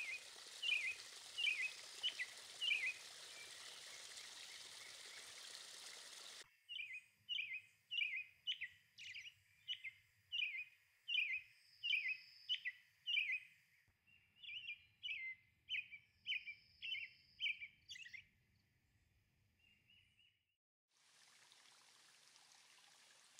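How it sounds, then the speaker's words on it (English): An American robin sings a long run of short, cheerful whistled phrases, about a dozen evenly spaced notes, fairly faint and distant, with a soft water-like hiss behind the first few. "Adults are handsome birds, and they have a very cheerful song."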